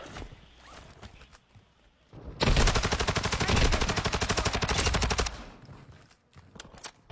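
Sustained rapid automatic gunfire in a video game, a dense loud burst lasting about three seconds with quieter single shots and footsteps before and after.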